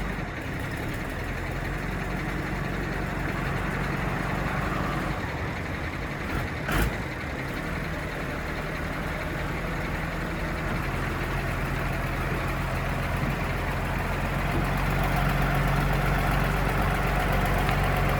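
A tractor engine, a used 5130, runs at a steady idle-to-low rumble as it is driven onto a lorry, a continuous close drone with one brief knock and no voices.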